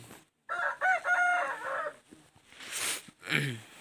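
Hmong farmyard chickens: a rooster crows loud and close, with hens clucking in the pauses.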